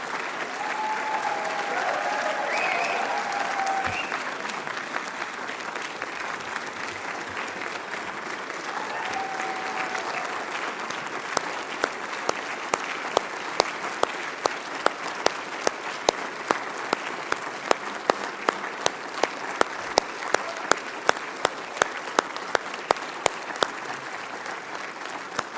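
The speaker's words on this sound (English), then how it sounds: "That's called a standing ovation." A standing ovation for community award recipients at a ceremony: sustained, dense clapping from a large crowd that carries on for the whole stretch and grows into sharper, more distinct claps toward the end.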